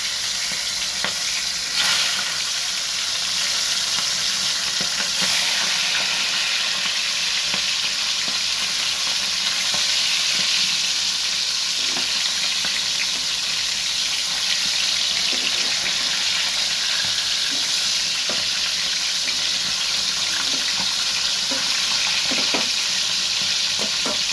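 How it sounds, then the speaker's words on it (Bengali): Hilsa fish heads sizzle in hot oil, a loud, dense and constant frying hiss with occasional spatters, close and without talking. "দেখো তেলটা গরম হয়ে গেছে, এবার আমি একে একে মাছের মুড়োগুলো দিয়ে দিচ্ছি"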